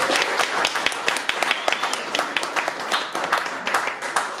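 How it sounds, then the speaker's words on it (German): Applause from a concert audience for the bar staff at a Django jazz revival show, a dense patter of claps that stays fairly steady for several seconds with a few sharper hand hits standing out. "Dicken Applaus für Lukas."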